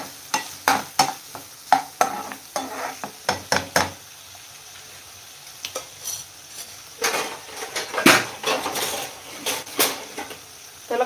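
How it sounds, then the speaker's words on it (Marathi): Tomatoes sauté in a pan with a soft sizzle under repeated scraping and clinking of a spoon against the metal, the stirring strokes coming in quick rhythmic bursts close by. "टमॅटो ॲड केल्यावर त्याला चांगला परतवायचं."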